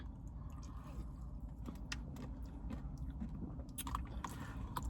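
Someone eats a Wendy's caramel Frosty topped with hard caramel chunks: faint, close crunches and bites sound against a quiet, steady background hum.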